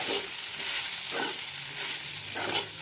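Spiced samosa potato filling with chilli and garam masala mixed by spoon in a pan, soft rhythmic scraping strokes over a low sizzle, close and steady.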